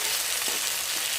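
Garlic cloves frying in hot oil in a pan, cooked alongside potatoes and eggplant for a fish dish, give a steady, close sizzle throughout with no talking.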